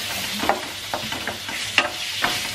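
Chicken pieces cooking in a pan alongside shrimp, a steady sizzling fry with repeated scrapes and stirs of a utensil against the pan, close and continuous with no voices.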